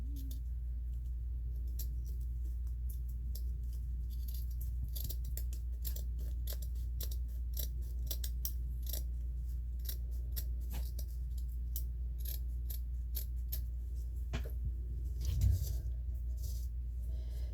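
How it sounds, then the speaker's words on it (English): Repeated crisp snips of regular scissors cutting through fabric for a washable kitchen sponge, irregular but steady, close by and fairly quiet over a low hum. "I think I'm going to use the regular scissors"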